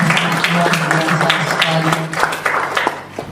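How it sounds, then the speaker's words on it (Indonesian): Audience applause at a launch event held in a hall, a crowded burst of clapping that thins toward the end, mixed with a speaking voice over the room. "Tentunya berikan tepuk tangan terima kasih dulu"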